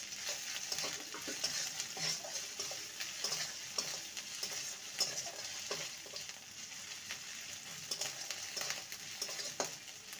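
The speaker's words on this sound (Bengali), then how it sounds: "আদা রসুন দিয়ে ভালো করে কষিয়ে নেব।" Ginger-garlic paste frying with onions in a pan for a parwal and fish curry, giving a steady close sizzle with repeated scraping stir strokes and light ticking throughout, no voices.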